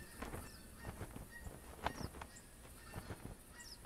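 A flock of geese honks in theHunter Classic hunting video game, faint and distant, with a string of short, irregular calls scattered over a few seconds.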